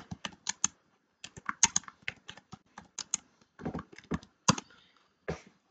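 Fingers tap out an email on a computer keyboard in quick, irregular bursts of clicks. Short pauses break up the crisp keystrokes, which sound close and fairly quiet.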